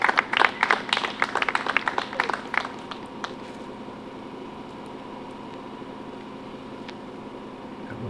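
Applause from a small outdoor crowd welcoming women disc golf players at the tee pad of a tournament, a brief burst of scattered claps that fades within three seconds into quiet ambient hiss.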